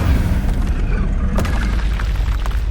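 Incendio fire spell cast in Hogwarts Legacy, a loud, continuous low roaring boom of game fire effects with a sharper burst midway, dense and close.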